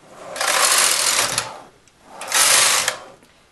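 A knitting machine carriage is pushed across the needle bed twice, each pass a loud whirring, clattering sweep lasting about a second and a half, with a brief quiet gap between the two rows.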